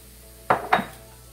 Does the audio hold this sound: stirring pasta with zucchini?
yes